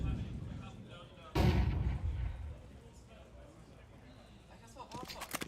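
Pistol gunfire in a Counter-Strike match: a loud burst of shots, then a sparse run of quick cracks near the end, all beneath steady commentary.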